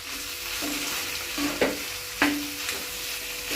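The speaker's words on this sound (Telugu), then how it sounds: "ఇప్పుడు ఈ కూరని కలుపుకోవాలండి కొంచెం, అంటే కారం కలవాలి కదా" Gobi (cauliflower) curry with chili powder stirred in a pan, a low continuous sizzle punctuated by a few distinct scraping spoon strokes close by, with no voices.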